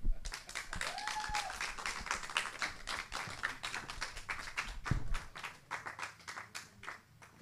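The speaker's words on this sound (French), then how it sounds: "on les applaudit." An audience applauding musicians at an intimate couch concert, a fairly faint, dense patter of clapping that carries on steadily for several seconds.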